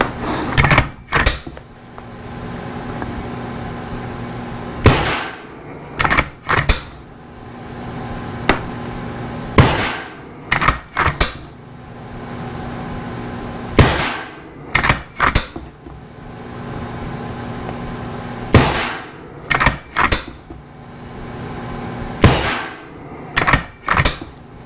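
A Skout STX firing at a target, sharp loud shots spaced irregularly in small clusters across the stretch, with mechanical clicks and handling noise between them and no talking.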